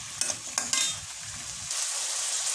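Vegetables with a little turmeric powder stirred in a frying pan: a spatula scrapes in a few quick strokes over a steady, close sizzle that swells louder toward the end, with no voices.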